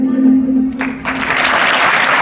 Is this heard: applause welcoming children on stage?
yes